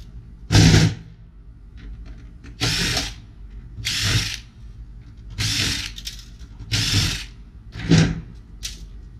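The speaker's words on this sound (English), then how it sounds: "Now I'm going to unscrew these parts right here, so I can get the stick drives out." A power drill or driver unscrews parts from a computer tower during electronic scrap breakdown, in six short loud bursts separated by brief pauses.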